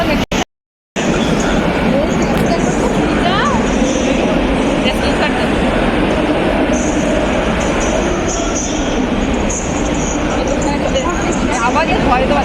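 A crowded metro train rolls along with a continuous loud rumble, rail clatter and occasional wheel squeal, while passengers' voices murmur throughout the carriage.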